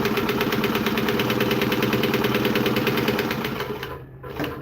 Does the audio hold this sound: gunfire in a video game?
no